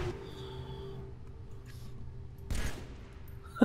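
Gunfire from the Halo 3 video game: a few quick, muffled shots ring out over a steady low hum of game ambience, the clearest burst landing near the end.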